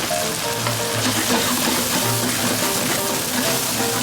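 Tomatoes and an Italian herb mix fry in a pan over a high flame with a loud, dense crackling sizzle, heard close and continuous, punctuated by low bubbling pops and no talk.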